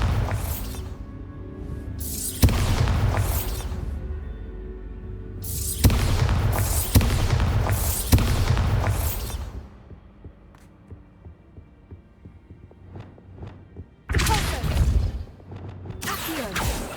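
The Bombarda blasting spell in Hogwarts Legacy sets off heavy booming explosions with crackling, shattering debris, several loud bursts separated by quieter gaps.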